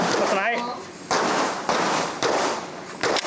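A Glock pistol fires at a shooting range in several sharp, loud, close reports spaced irregularly, the last two in quick succession, after a brief voice at the start.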